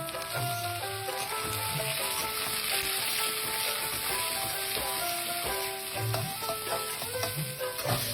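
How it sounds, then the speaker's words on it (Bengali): Onions sizzle and crackle steadily in a hot pan for chilli chicken, a dense continuous frying hiss with occasional low clinks and scrapes of stirring. "তো পেঁয়াজটা এখানে আমি খুব বেশিক্ষণ ভাজবো না"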